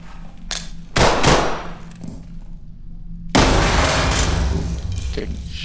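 Gunshots are fired at players in the tactical shooter Ready or Not, with a loud crack and a brief burst, then a second heavy volley of shots that rings out and slowly decays.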